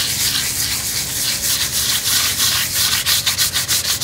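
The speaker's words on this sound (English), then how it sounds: "And you see the scrubbing action is breaking up" A bristle brush scrubs a vinyl awning coated in stain remover with a close, hissing rasp, a continuous back-and-forth stroke that turns into distinct rhythmic swipes near the end.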